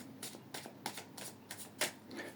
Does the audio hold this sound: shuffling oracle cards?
yes